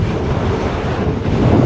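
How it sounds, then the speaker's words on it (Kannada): Strong desert wind in the Sahara buffets the microphone beside the world's biggest iron ore train in Mauritania, a loud, steady roar of gusts with no voices. "ಓ, ಗಾಳಿ ಜಾಸ್ತಿ ಹೊಡಿತೈತೆ."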